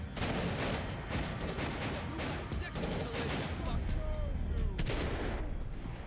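Dense gunfire from the video game Max Payne 3 rattles in rapid bursts with loud, sharp reports packed close together, continuous throughout.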